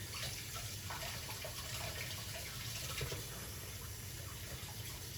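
A water tap running continuously while a hand is rinsed, a steady, even rush of water from start to finish with no talking.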